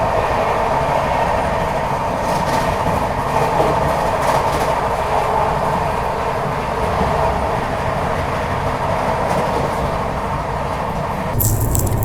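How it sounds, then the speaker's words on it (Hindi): An IRCTC Tejas Express train runs at a steady 130 km/h, a loud continuous rumble and rattle heard from inside the carriage, with a brief burst of noise at the very end. "आज वाले मान लो कुछ फ्लैट 130 पे अपनी जो है तेजस एक्सप्रेस भाग रही है"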